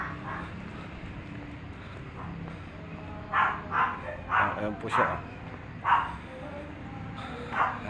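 A native Filipino askal dog named Choco barks in short, sharp bursts at intervals on a dim early-morning roadside walk, heard fairly near over steady background noise while someone talks.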